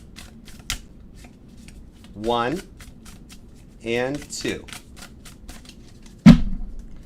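A deck of tarot cards is riffled twice, two quick fluttering shuffles a couple of seconds apart, close and crisp, followed by a sharp tap of the deck; a voice speaks briefly in between.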